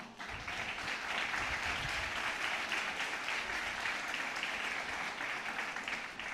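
A church congregation claps during a sermon, producing a dense, sustained roar of applause that stays even from start to finish.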